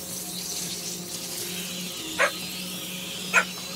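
Two short, sharp dog barks sound about a second apart over a steady ambient drone in the video game A Plague Tale: Requiem, moderately loud against the quiet background.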